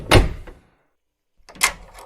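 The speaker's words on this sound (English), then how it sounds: "I'm locking the door" A door being shut and locked in an old house: a solid thump with a short rattle, a pause of silence, then a second clunk and latch clatter, close and fairly loud.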